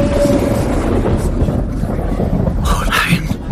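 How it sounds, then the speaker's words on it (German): In a German radio drama, thunder rolls as a loud, sustained low rumble that swells and fades over a few seconds, with a brief hiss toward the end and no clear speech. "Was war das? Ein Gewitter."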